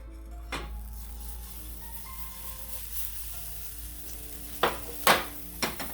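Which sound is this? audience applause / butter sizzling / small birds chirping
butter sizzling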